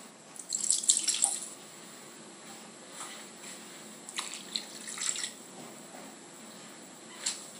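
Tap water running into a pot to top up a salmon poaching liquid in a kitchen, opening with a brief splashing gush. Fainter trickles and drips follow, with no talk.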